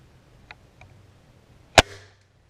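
A single sharp, loud .22 caliber airgun shot cracks out once, followed by a brief fading ring, with a couple of faint small clicks before it in an otherwise quiet outdoor setting.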